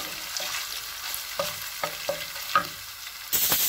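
Masala with onion and ginger frying in a pot for mutton yakhni pilau, a low steady sizzle punctuated by a few scraping stir strokes, then a sudden louder burst of sizzling near the end.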